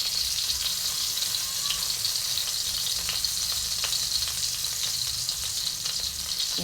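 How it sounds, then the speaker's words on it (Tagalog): Garlic sautéing in a hot pan gives a steady, close, bright sizzle with crackling that runs unbroken from start to finish, with no voices. "Igigisa na po natin ang unang-una ay ang bawang."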